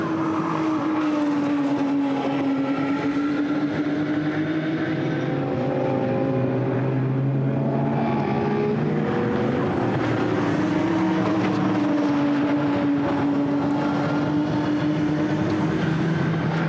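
Two Aston Martin race cars at Oulton Park during a 2017 British GT race run toward Old Hall Corner, their engines a loud, steady roar with rising and falling pitch that stays close throughout.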